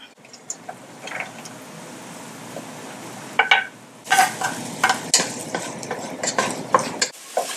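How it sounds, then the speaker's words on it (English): Onions frying in heated vegetable oil in a large pot for spinach pies, a steady sizzle broken by scraping stirs and utensil clinks against the pot, growing busier and louder toward the end. "the next step is to fry our onions"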